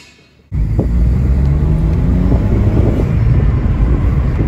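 A Volkswagen up! TSI turbocharged engine revving hard, starting abruptly after a quiet moment and holding a loud, close, steady low rumble with some wind buffeting to the end.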